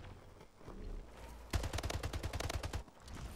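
A carbine in a video game fires a rapid burst of about a dozen loud, evenly spaced shots after a quieter lead-in of background game sound.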